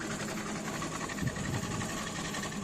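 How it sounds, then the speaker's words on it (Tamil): A power tool, likely a router, cutting a zigzag design into Burma teak board about one and a quarter inches thick, giving a steady continuous whine with slight surges, close and loud, with no talk. "அதுக்கப்புறம் இப்போ சிக்ஸாக கட் பண்ணிக்கிட்டு இருக்கோம்"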